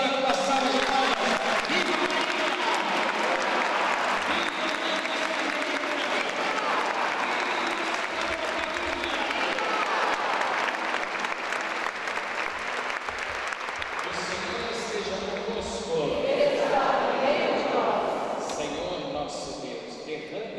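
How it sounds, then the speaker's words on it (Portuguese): A church congregation gives a sustained round of applause in honour of Our Lady, dense clapping and crowd noise continuing loud and steady for about twenty seconds before thinning slightly toward the end. "Honremos Nossa Senhora com a salva de palmas."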